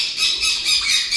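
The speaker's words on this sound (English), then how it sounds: "My birds are up this morning." Pet birds squawk loudly at close range in the morning, a run of shrill, repeated calls with short pauses between bursts.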